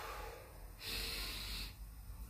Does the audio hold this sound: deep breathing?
yes